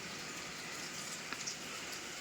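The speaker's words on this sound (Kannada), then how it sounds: "ಮಳೆ ಬರ್ತಿದೆ" Steady soft rain patters continuously, a faint even hiss with a couple of slightly louder drips.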